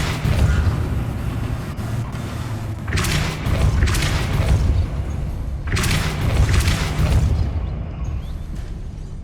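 Depulso spell effect in the Hogwarts Legacy video game, two heavy booming bursts a few seconds apart over a dense, loud ambient game soundscape.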